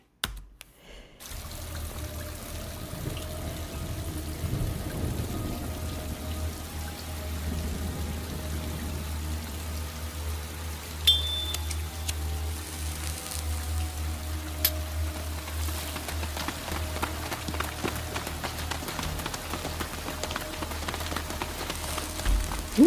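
Rain falls steadily in a soft, even patter with scattered drips and a low hum underneath, quiet and continuous throughout.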